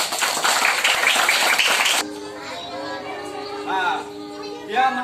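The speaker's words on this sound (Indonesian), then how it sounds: "Tepuk tangan dulu." An audience claps together at a school anti-bullying declaration event, giving a dense, loud burst of applause lasting about two seconds that cuts off abruptly. A voice and other talk follow.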